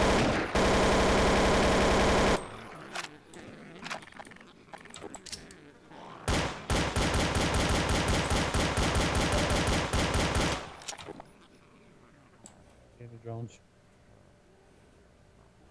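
AK rifle fire in the video game Obsidian Conflict: two long, loud automatic bursts separated by scattered single shots, with quieter clicks and a voice speaking afterward.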